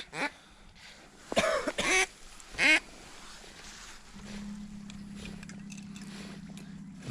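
Ducks quacking on a bay during a fall duck hunt, two or three loud close bursts of calls followed by a low steady motor hum.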